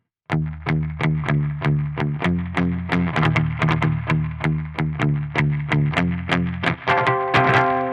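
A heavily distorted electric guitar through a Holy Island Audio Tides reverb pedal plays steady repeated chords with a reverb wash and very bright tone, ending in a brighter sustained chord, loud with no voices.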